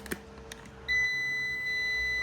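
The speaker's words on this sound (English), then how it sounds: "you hear that wonderful beep? That means we got power coming in." A solar power inverter gives a loud, steady electronic beep that starts suddenly and holds for over a second as power from a 2500-watt solar array comes in, following a couple of faint clicks.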